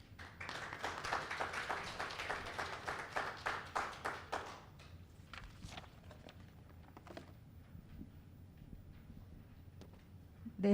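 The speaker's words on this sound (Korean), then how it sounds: "큰 박수로 앞쪽으로 모시겠습니다" An audience at a business forum on reemployment gives a short round of clapping for a speaker coming forward, fading after about four seconds into quiet room noise and a few taps and shuffles.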